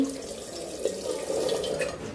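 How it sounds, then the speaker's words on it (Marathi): Water poured into a pressure cooker while preparing food at home, a steady close trickling and splashing that runs without a break and stays fairly quiet throughout. "कुकरमध्ये घालायचं आहे थोडं पाणी"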